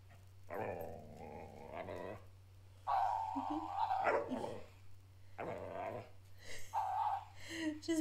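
A dog barks in short bursts at a new toy, with a few sharp yaps and some growly, whiny vocal sounds spread across the clip over a low steady hum, fairly close and moderately loud.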